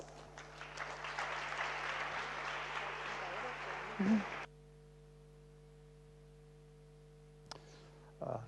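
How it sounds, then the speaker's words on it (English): Audience applause for a speaker introduced as the Regional Minister of Economy, Innovation, Science and Employment at an innovation event, dense and steady for about four seconds under a low hall hum, then cutting off to near silence. "let's give him a big applause"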